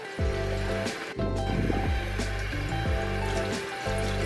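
Water runs from a faucet into a potted peace lily's soil, a close, hollow gushing fill with changing pitch, briefly interrupted and then resumed.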